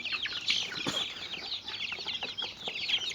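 Domestic backyard chickens cluck softly and repeatedly while drinking water mixed with a chicken tonic, a close, busy scatter of short calls with no talk.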